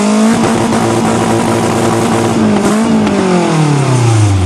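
A Nissan 200SX with a modified, welded-on large-bore exhaust revs hard and loud up close, the engine note rising and holding before dropping away steadily toward idle.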